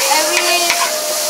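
Kuey teow stir-frying in a wok with lots of garlic at a Teo Chew style hawker stall on Jalan Imbi, loud steady sizzle with quick scraping strokes of the spatula.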